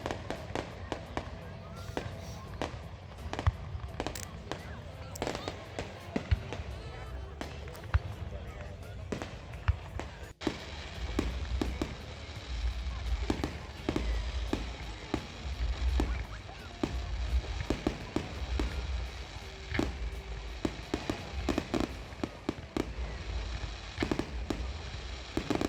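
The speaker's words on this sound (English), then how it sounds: "it was kind of nice just looking at fireworks on my own" Fireworks burst repeatedly at a summer outdoor display, a long irregular series of sharp pops and booms, some near and some distant, under continuous talk.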